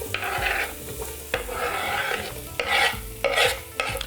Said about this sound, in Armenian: տապակում ենք։